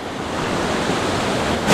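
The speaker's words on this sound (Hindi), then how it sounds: "और जो पानी की आवाज़ आ रही है वो आपका मन बिल्कुल मोह लेगी" Water rushes steadily and loudly at a small waterfall at Amritpur near Kathgodam, a dense, close roar that swells slightly at the end, with no voices.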